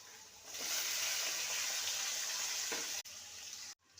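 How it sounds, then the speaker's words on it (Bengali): Thin-cut potato sticks sizzle steadily in a hot pan of oil seasoned with cinnamon, a close, constant hiss that starts after a brief quiet and dips near the end before resuming. "আলুটাকে 2 মিনিট ভালো করে ভেজে নিয়েছি।"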